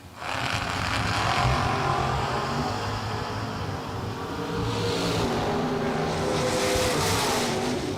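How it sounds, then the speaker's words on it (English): A 1956 Chevrolet race car at a drag racing season kick-off event gives a loud, sustained engine roar with tire noise, holding steady close by for several seconds. "For action time advantage, going to the 56 Chev, driven by John Hudson."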